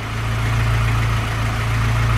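A Honda B18C4 car engine idles steadily with a low, even hum and faint vibration, close and continuous, with no voices.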